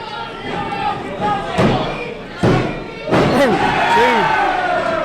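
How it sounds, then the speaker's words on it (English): Wrestler's delayed drop kick landing in an independent wrestling match, several heavy ring thuds and slams with a lively crowd reacting and a commentator's voice over the top. "my beautiful delayed drop kick right in the face"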